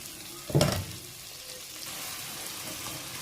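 Chickpeas frying in a spice masala give a brief loud burst of sizzling as they go into the pan, then settle into a softer, steady crackle with faint clinks.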